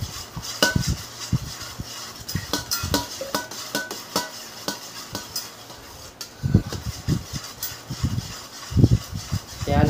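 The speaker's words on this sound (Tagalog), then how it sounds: "haluin na natin na haluin para mawala yung bubo" Spoon stirring a coffee jelly mixture in a container, clinking against the sides in an irregular rhythm of close, sharp taps and scrapes, with occasional louder knocks.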